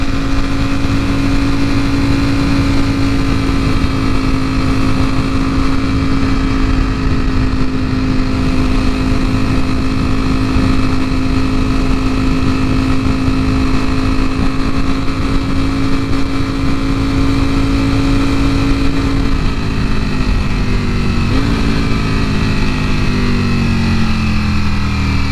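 A 2018 Ducati V4S rides on a private track. A loud, steady engine drone runs at an even pitch under the wind rush, then the pitch shifts and drops near the end.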